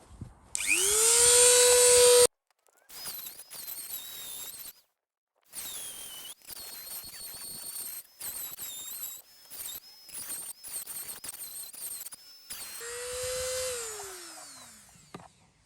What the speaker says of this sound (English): that one is going to need a bit of love from Mr. Dremel